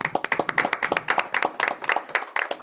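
Audience applause at the closing session of an international conference on film, TV series and law: dense, steady clapping from many hands, close and loud throughout with no voices.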